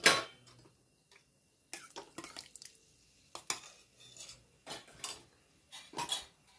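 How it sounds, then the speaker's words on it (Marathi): Paneer masala gravy with red and white gravy stirred in a pan, close scraping and clinking of a spoon against metal in separate bursts with quiet pauses between. "रेड ग्रेव्ही, चांगलं असं मिक्स करून घेऊयात."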